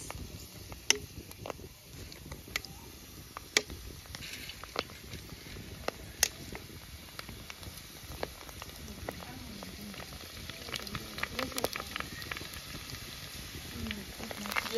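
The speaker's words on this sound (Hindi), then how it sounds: "और यहाँ से घी भी गर्म हो गया है, इसमें हम फ्राई कर लेंगे ये पूरी।" Puris frying in hot ghee while golgappa are made, a continuous bubbling sizzle with scattered sharp pops and crackles, fairly close and moderately loud, running steadily throughout.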